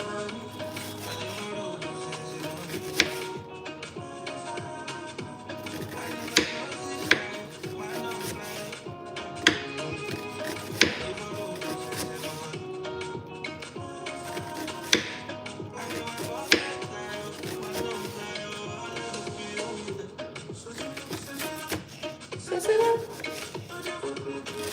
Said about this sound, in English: we'll start by cutting the onion